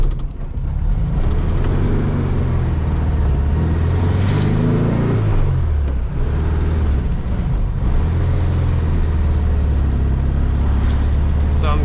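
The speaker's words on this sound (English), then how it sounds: "So right now I'm driving maybe about 25-30 miles per hour" A VW Super Beetle cruising at 25-30 mph with a steering shimmy issue, its air-cooled engine giving a loud, steady drone with a brief rise and fall in pitch near the middle, heard from inside the car.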